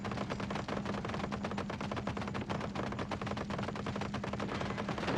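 Rapid tank cannon and machine-gun fire in the War Thunder Mobile game, with an M4 tank in play: a dense, steady stream of sharp bursts running without a break, loud and close.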